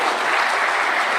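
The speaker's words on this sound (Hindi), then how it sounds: "सबसे पहले आप लोग एटलीस्ट एक बार दैनिक भास्कर समूह के लिए एक बार जोरदार तालियां बजाइए" Dense, loud applause from an audience at a police awards ceremony, a steady roar of clapping hands with no pauses.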